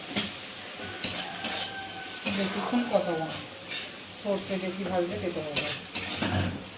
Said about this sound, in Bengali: দেওয়া মশলাটা ভালো করে কষিয়ে নেওয়া হচ্ছে